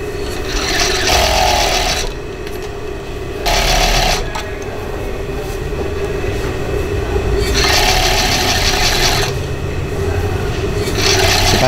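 An overlocker stitches a blouse armhole seam with the body on top and the sleeve underneath, a fast close mechanical whirring that runs in bursts with short pauses between them.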